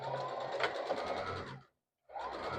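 Sewing machine stitching down blanket fabric, a fast steady mechanical whirr that runs, cuts out for a moment of silence and then starts again, close up.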